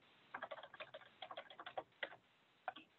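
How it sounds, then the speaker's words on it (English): Quick, uneven keystrokes on a computer keyboard, someone typing an email in a survey tool, come in short bursts with brief pauses, close and fairly soft, with no one talking. "sorry, I'm typing."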